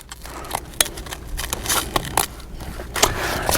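Scissors cutting RV carpet, a run of crisp snipping and crunching cuts in quick irregular bursts, close and fairly loud with no talk.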